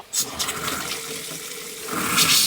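Water rushes through a mobile home washbasin as the hot water line is purged, a steady hissing gush that swells louder near the end, close by and without speech.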